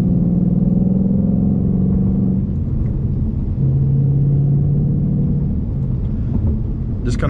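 A Ford Mustang GT's engine drones as the car accelerates on a highway, a loud, close rumble that rises and shifts in pitch as it pulls.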